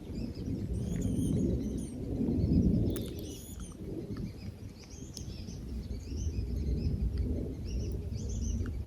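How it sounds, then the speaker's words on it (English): Many birds chirp and tweet around an outdoor campsite, their high calls scattered near and far over a steady low outdoor rumble. "Y'all hear all the birds?"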